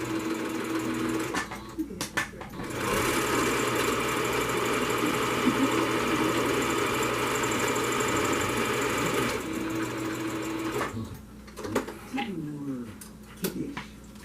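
A sewing machine stitches across the pleats of a fabric medical mask in a long steady whir, with brief stops and restarts at each end and a voice talking faintly in the gaps.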